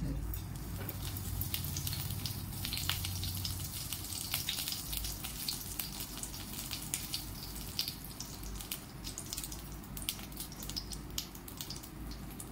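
Cumin seeds crackle and splutter in hot oil in a pan, a dense steady sizzle with scattered sharp pops running throughout at close range.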